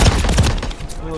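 Rapid bursts of gunfire in a shooter video game, dense overlapping shots and thuds filling a little over a second at steady close range.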